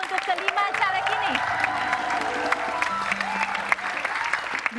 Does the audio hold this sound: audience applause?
yes